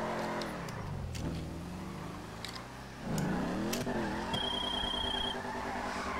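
A car doing burnouts in GTA V, its engine revving hard as the tires squeal and skid, the pitch sweeping down and back up before a louder, sustained spin takes over.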